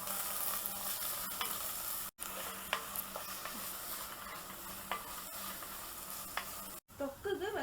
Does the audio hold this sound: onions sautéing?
yes